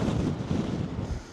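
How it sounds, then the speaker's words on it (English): Strong wind buffeting the microphone on a coastal clifftop along the Jurassic Coast, a loud, continuous rumbling roar with gusty pulses throughout the short stretch and no voices. "Oh, it's windy."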